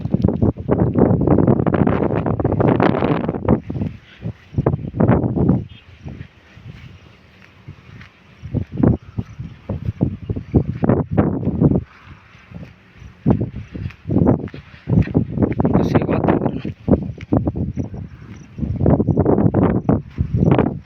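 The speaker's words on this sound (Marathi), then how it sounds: "वारा बिरा मस्तपैकी वाऱ्याचा आवाज येत असेल तुम्हाला" On a mountain, wind blows in strong, buffeting gusts that roar against the microphone, rising and falling in irregular surges with brief calmer stretches between them.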